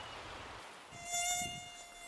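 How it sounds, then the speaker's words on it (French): Mosquitoes buzz close by in a steady high whine with several thin tones, growing louder midway, on an islet where a pastor is visiting villagers. "Il y a beaucoup de moustiques."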